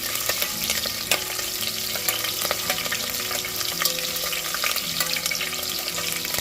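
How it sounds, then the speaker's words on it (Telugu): Cinnamon and cloves fry in oil in a pan with a continuous close crackling sizzle, punctuated by light clicks and stirring sounds. "కొంచెం దాల్చిన చెక్క, లవంగాలు వేసుకొని ఫ్రై చేయండి"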